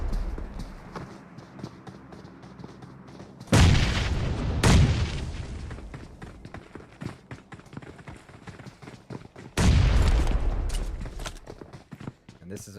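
Grenades explode in a competitive online shooter match, two heavy booming blasts several seconds apart cutting through constant game noise and a commentator's running voice.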